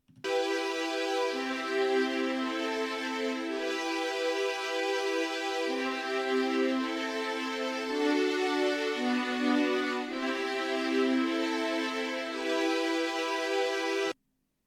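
Custom VFX-style synthesizer string pad playing sustained, slowly shifting chords, smooth and continuous at moderate level with no talking.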